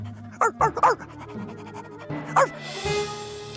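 A cartoon dog in an Oui Oui episode pants in short breathy bursts and lets out quick yips, in two clusters close to the listener.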